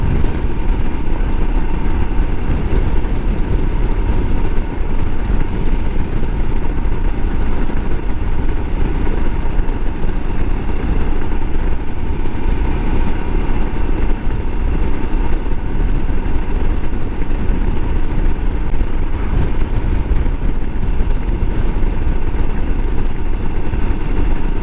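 A Royal Enfield Himalayan motorcycle runs on a winter ride, its engine a steady, loud, unbroken drone mixed with rushing noise for the whole stretch.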